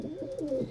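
A pigeon kept in a loft coos once, a soft, low, rolling call heard close by and fairly quiet, with no other sounds around it.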